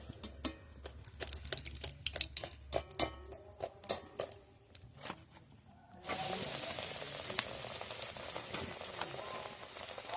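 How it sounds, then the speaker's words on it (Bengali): Beguni, eggplant fritters in batter, deep-frying in hot oil over a village-style fire, heard as a steady broadband sizzle that swells louder in the second half after earlier clattering knocks. "এইভাবে জাল দিতে হবে যাতে তেলটা গরম থাকে সবসময় তাহলে বেগুনগুলো খুব ফুলবে"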